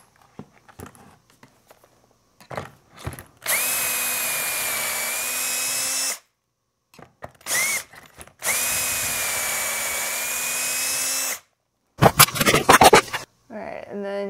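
A power drill whines in two long, loud bursts and a shorter one, boring pocket holes into a 2x4 clamped in a pocket hole jig, with clicks, clamping and handling noises between the bursts.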